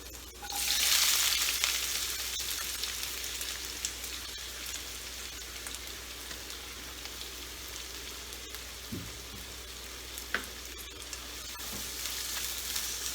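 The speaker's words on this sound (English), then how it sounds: "Stirring the onion." Sliced onion frying in a pan for a grilled brinjal mash, with a loud hiss at first that settles into a steady sizzle, broken by a few scraping stirs and clinks of the spoon.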